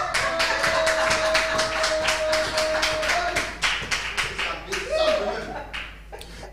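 A church congregation claps steadily in rhythm to acclaim the Lord, loud repeated claps over singing or shouted voices, with the rhythm breaking up toward the end.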